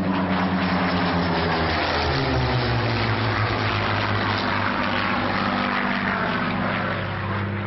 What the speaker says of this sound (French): Le fantastique super marine K2 Spitfire. Le voilà!